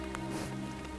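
Steady rain falls outdoors at a bear-hunting blind, a soft, even hiss of drops with no voices, quiet and continuous throughout.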